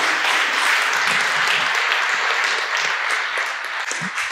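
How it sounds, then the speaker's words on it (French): Steady, full applause from a seated audience at an evening event in a French Masonic lodge, a continuous crowd of clapping hands that holds its level before easing slightly at the end. "effectivement on peut les applaudir"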